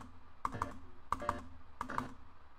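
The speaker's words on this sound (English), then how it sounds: "If you're on your computer, you can use the space bar to hit pause." A computer keyboard space bar pressed three times at even intervals, each a close, crisp click-clack with a softer release, alone in a quiet room.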